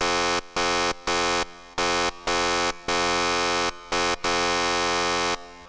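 A bright, harmonically rich psytrance synth lead from an Access Virus A with reverb plays sustained notes in choppy rhythmic bursts separated by short gaps, loud and alone.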